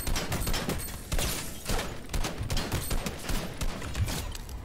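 Rapid laser rifle fire in the video game Fortnite, repeated sharp bursts in an uneven stuttering rhythm, fairly close and continuous, with no speech.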